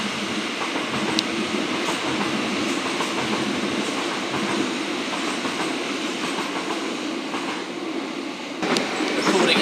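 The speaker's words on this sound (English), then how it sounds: "Recording a train." A train rumbles steadily across the Tonbridge rail bridge, with a continuous broad roar of wheels and carriages and faint rail squeals. It is close and loud, holds constant throughout, and swells slightly at the end.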